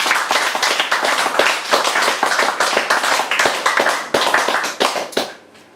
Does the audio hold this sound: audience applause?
yes